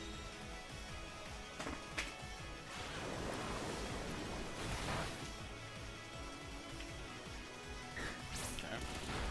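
A Muddy Water attack in a Pokémon battle game, a sustained rushing, surf-like wash of water with crashing bursts, steady and fairly loud throughout.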